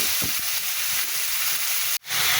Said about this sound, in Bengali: এবার আলুটা ভালো করে ভেজে দিচ্ছি